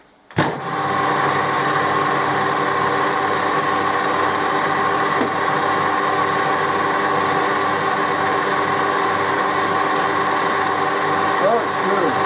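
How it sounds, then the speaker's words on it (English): A drill on an antique repair job starts abruptly and keeps running with a steady, whining mechanical drone, close and loud, with a faint click or two partway through. "Oh, it's drilling."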